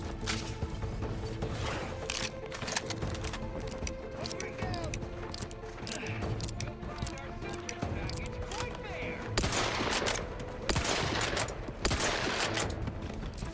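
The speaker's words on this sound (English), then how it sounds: "Freaking grenades." Rapid gunfire bursts and grenade blasts crackle through a firefight in The Outer Worlds 2, with dense repeated shots throughout and heavier bursts near the end, under a speaking voice.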